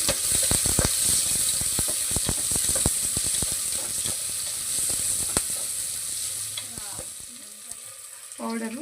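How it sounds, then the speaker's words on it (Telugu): Onions and spices fry loudly in oil, a dense sizzle broken by rapid crackling pops and clicks of stirring that thin out toward the end. "బాగా ఫ్రై అవ్వాలి."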